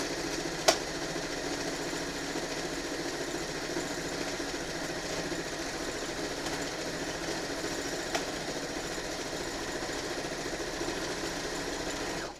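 A sewing machine runs steadily as it stitches in the ditch along a quilt's binding, producing a low, even mechanical hum and patter that is faint and continuous, with a couple of brief clicks.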